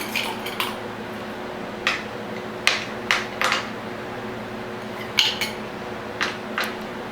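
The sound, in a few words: ice cubes added to a glass of milk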